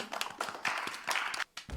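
A small group of people clapping together after a filming session, a brisk burst of close, dense applause that briefly stops near the end and then resumes.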